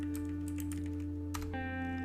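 Keys clatter in a few quick taps on a computer keyboard while typing a command on a Windows computer, set against a steady electrical hum and tonal background.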